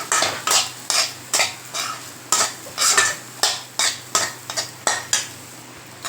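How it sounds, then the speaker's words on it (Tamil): Spatula stirring grated coconut through a beetroot stir-fry in a pan, with about a dozen regular scraping strokes and light clinks close by, under a faint sizzle, no speech. "இப்போ நம்ம தேங்காய் போட்டுக்கலாம் போட்டு இதை நல்லா மிக்ஸ் பண்ணுங்கள்"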